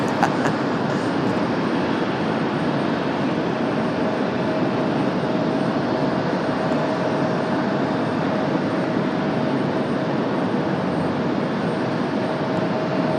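A Frontier airliner roars down runway 23 right on takeoff at Raleigh-Durham International, a steady broadband engine rumble holding constant and moderately loud at a distance, with no voices.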